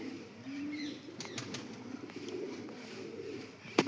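Black Cheena pigeons flap their wings in several quick bursts close by, with soft cooing in between.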